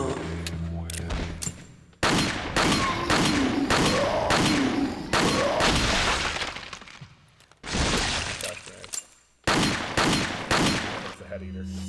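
Gunfire in Resident Evil 4: repeated loud, close shots and bursts with crashing, breaking impacts, broken by short gaps of near silence.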